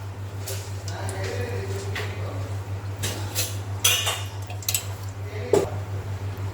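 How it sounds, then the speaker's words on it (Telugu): A metal spoon puts cooking oil into a pan for a drumstick masala curry, giving several light, scattered clinks and taps close by over a steady low electrical hum. "దానికోసం 3 స్పూన్లు ఆయిల్ యూజ్ చేస్తున్నా."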